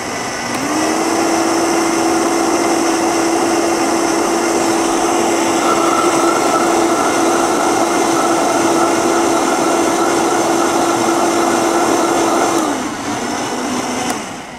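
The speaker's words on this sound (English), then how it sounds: "I'm going to go ahead and blend it down because we don't want chunks of cashews in there" A blender runs steadily for about twelve seconds, pureeing cashews into a creamy vegetable soup, its loud motor whine holding a constant pitch before spinning down at the end, with no talking.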